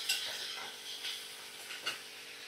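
Spices with ginger-garlic paste and ground cumin fry softly in a pan for a chicken and potato curry, with light scraping stirs and a few utensil taps over a low, steady sizzle.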